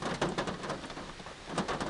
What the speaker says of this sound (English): till we started getting rain